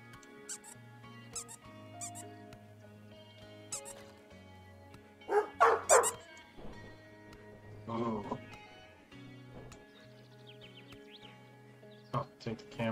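A dog in Animal Shelter Simulator gives a few short, sharp barks and yips among steady game music and chimes, with quieter squeaks scattered around them.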